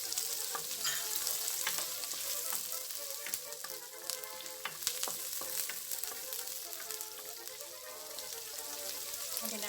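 Chopped onions sizzle and fry in a hot pan while a clam soup (tinolang halaan) is being cooked, a steady crackling hiss with frequent small pops and occasional stirring scrapes, close and continuous.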